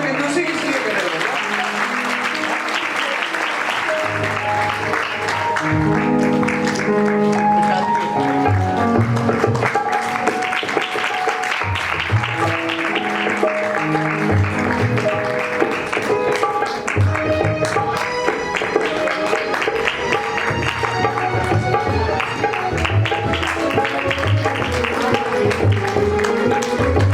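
An audience at a Shrimad Bhagavat katha claps steadily and rhythmically through a devotional song with music, a long sustained applause that holds under the singing.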